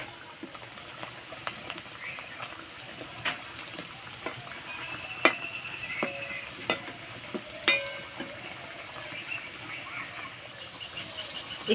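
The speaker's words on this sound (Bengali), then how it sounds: "এই কচুরি ভাজতে একটু সময় লাগে," Cauliflower kachori deep-frying slowly in moderately hot oil makes a soft, continuous bubbling sizzle, dotted with sharp crackles and occasional utensil clicks, with no speech.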